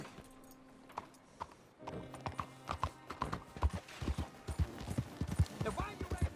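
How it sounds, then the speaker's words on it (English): Horse hooves clip-clop in a steady, close rhythm while riding in Red Dead Redemption 2, with game dialogue over the top and the hoofbeats growing louder and faster. "You got a horse? Get on it."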